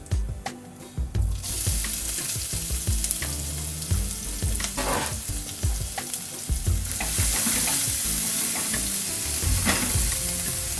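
Finely chopped onion hitting hot oil with spluttering seeds in a pan for an Indian spinach gravy, a steady loud sizzle with stirring scrapes and clinks, the hiss swelling brighter toward the end, no voices.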